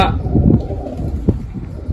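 Pigeons cooing close by in a brief burst of low, throaty coos, with a person speaking over them.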